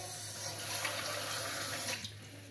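Clean water runs steadily from a tap into a sink as a drink is mixed, a continuous close splashing rush that cuts off abruptly near the end.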